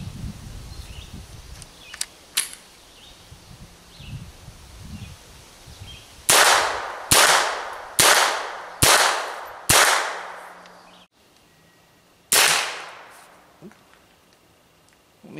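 Unsuppressed rifle shots firing Piney Mountain green tracer rounds, several sharp reports in a quick spaced series followed by one more, each with a short ringing decay outdoors.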